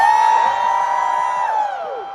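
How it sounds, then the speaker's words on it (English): A concert crowd at a 2024 world tour sound check in Oakland, California, gives a loud, sustained high-pitched scream and cheer that fades slightly at the end. "Thank you for welcoming us with loud cheers."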